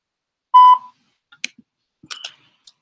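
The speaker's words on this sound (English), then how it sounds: "And now I'm leaving a voicemail for them." A voicemail system's recording beep sounds once, a short loud steady tone before the message begins, followed by faint scattered clicks and small noises.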